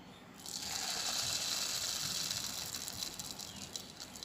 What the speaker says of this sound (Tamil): பட்டர் மெல்ட் ஆகிட்டு இப்போ மாவு ஊற்றிக்கலாம்